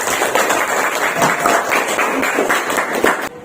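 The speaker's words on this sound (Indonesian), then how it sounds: "Tepuk tangan dulu" Applause from a classroom audience of students at the close of a teacher's lesson, a steady dense patter of many hands clapping for a few seconds before cutting off abruptly.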